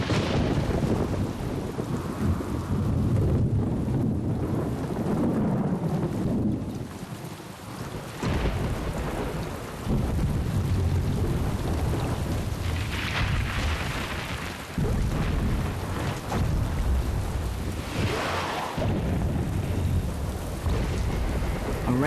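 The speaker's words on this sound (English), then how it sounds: "A rainstorm can be deadly." A rainstorm pours down heavily and steadily while repeated deep rumbles and cracks of thunder roll through, some building and fading over several seconds, with no voices present.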